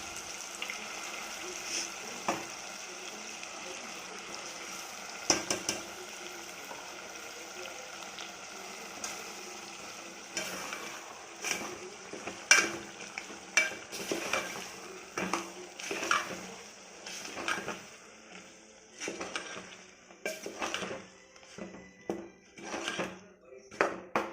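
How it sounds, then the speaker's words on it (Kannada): Ground masala frying in oil for a country chicken curry, a low sizzle under repeated clinks and scrapes of a spoon against the pan, close and intermittent, growing busier toward the end. "ಮಸಾಲೆನೂ ಎಣ್ಣೆಯಲ್ಲಿ ಚೆನ್ನಾಗಿ ಫ್ರೈ ಮಾಡಿಕೊಳ್ಳಿ"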